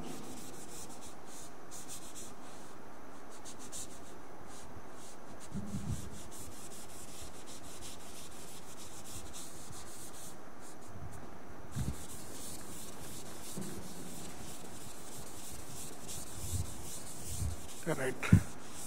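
Steady scrubbing of a figure being erased from a classroom board during a lecture on pin-jointed truss structures, a soft continuous rubbing that runs throughout at low level.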